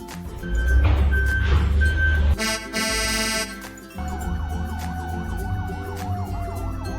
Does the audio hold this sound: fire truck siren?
yes